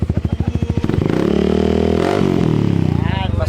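A Yamaha XMAX scooter fitted with a Contrabida Power Pipe exhaust idles with a choppy pulse, then revs up into a loud sustained drone that rises and falls, close by.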